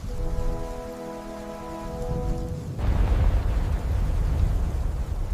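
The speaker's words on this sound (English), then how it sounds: "the first rains began to fall" Steady rain pours down, a constant broadband hiss that swells louder midway as the downpour intensifies, with no voices present.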